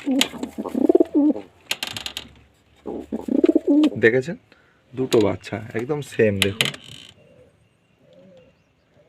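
Pigeons coo softly in a loft holding two young chicks, the low murmuring calls heard close by beneath someone talking at length.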